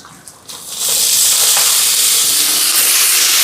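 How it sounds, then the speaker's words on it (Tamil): Tomatoes sautéing in a pan over softened onions while cooking a Sri Lankan lunch: a brief quiet clatter gives way to a steady, loud, close sizzle and hiss that holds to the end. "தக்காளி பழம் கொஞ்சம் வதங்கட்டும்"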